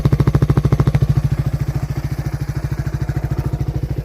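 A 1987 Suzuki SP200 dual-sport motorcycle engine idles steadily with an even, rapid pulsing rumble, close and constant throughout.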